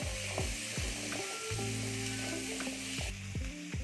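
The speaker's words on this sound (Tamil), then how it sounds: "கொஞ்சம் நல்லா வதங்கட்டும்." Onions and other ingredients sautéing in oil in a pan for Tamil dried fish curry (karuvattu kulambu), a steady loud sizzle with repeated scraping stirs and a faint mechanical whine throughout, no speech.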